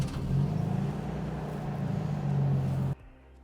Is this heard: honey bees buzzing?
no